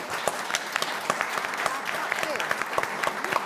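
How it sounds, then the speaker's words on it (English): Audience applause at the UK Innovation Report launch for presenters and panellists: brisk, continuous clapping filling the room, with a faint voice beneath it, moderately loud and steady throughout. "could you join me, please, in giving them a big round of applause?"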